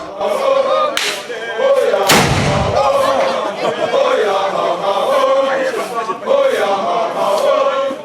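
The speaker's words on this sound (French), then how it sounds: "l'armée royale annonçait à travers des coups de canon l'importance de la cérémonie du jour" Ceremonial cannon shots from a royal army at a Bamoun king's enthronement in a dense crowd, with a sharp blast and deep rumble amid continuous crowd noise and chatter.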